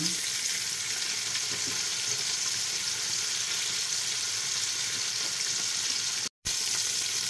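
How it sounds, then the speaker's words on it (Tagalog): Chicken frying in hot oil, a steady, loud, dense sizzle and crackle that fills the whole stretch alone, cut by one brief dropout near the end. "So yan, maganda yung pagkakaprito natin."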